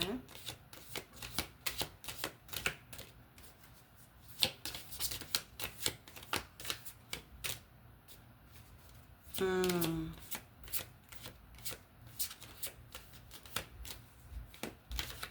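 A deck of oracle cards is shuffled steadily up close, making a dense run of rapid papery riffles and flicks that goes on for the whole stretch. There is a brief voiced sound partway through.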